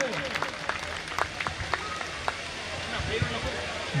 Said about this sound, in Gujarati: મિત્રો જોરદાર તાળીઓથી વધાવી લઈએ